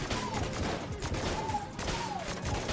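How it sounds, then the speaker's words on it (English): Strafe Gun firing in the video game Enter the Gungeon: a dense, continuous fusillade of rapid game gunshots with brief whistling tones over it, loud and steady throughout. "So Strafe Gun is just going to get us through this floor in record time."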